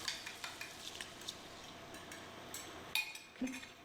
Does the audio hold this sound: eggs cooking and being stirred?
yes